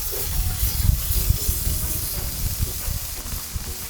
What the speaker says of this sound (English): Frying pan well hot, you know.